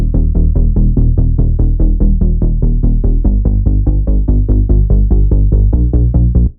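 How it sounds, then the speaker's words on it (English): Plunky saw-wave bass synth patch from Vital, loud and dry without sidechain pumping, playing a steady, even stream of rapid plucked notes that alternate between pitches, then stopping abruptly. "this kind of plunky saw bass."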